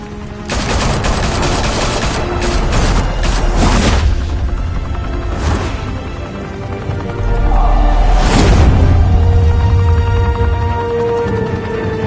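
Rapid bursts of automatic gunfire and heavy booms in a Batman video game, loud and close, with dense volleys at the start and further salvos later over a low rumbling background.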